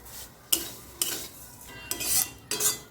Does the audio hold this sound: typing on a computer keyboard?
no